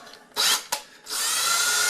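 Power drill boring bolt holes for a kitchen range hood installation: a short burst, a brief blip, then steady whirring drilling, close and loud with no talk.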